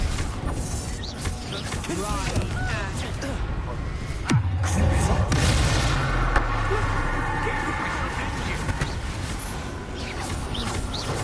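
A Confringo spell explosion goes off in Hogwarts Legacy on PS5, a sharp burst just before the midpoint that sinks into a deep rumble, set inside dense, continuous game sound.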